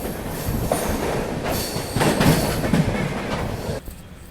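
Secunderabad Duronto Express sleeper train rolling along the rails at night, heard from inside with a loud continuous rumble, clattering wheel noise and occasional metallic squeal, no voices.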